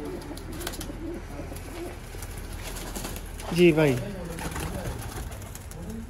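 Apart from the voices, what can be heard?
golden pigeons cooing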